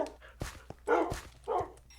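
In Minecraft, a dog barks several times in quick bursts mixed with short whimpers, loud and close, with no talk.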